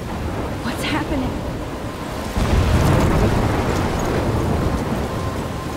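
Thunderstorm with rain in the video game Life is Strange: a steady wash of heavy rain with a deep thunder rumble swelling about halfway through and rolling on, loud and continuous.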